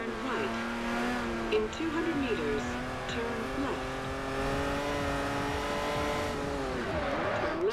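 Car engine in the racing video game Forza Horizon, a steady droning hum with rising and falling revs throughout, under a man's speech.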